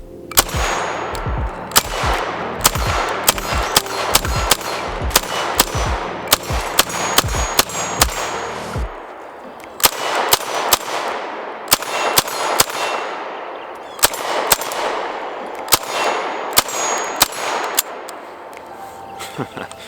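Rapid sharp gunshots from an UZI PRO pistol fired on an outdoor range, loud and close, in irregular bursts of quick shots with brief ringing clangs between strings and short pauses.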